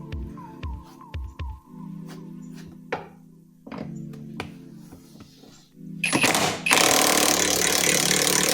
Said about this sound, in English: You can get in there with an impact gun and get the bolt.